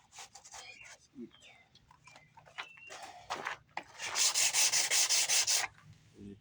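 Sandpaper in a hand holder rubs over a car bumper during a paint repair, with brief scuffs early on and then a steady, loud stretch of rhythmic back-and-forth sanding strokes near the end.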